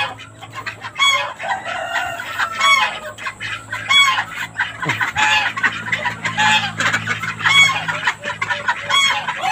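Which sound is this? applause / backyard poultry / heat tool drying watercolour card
backyard poultry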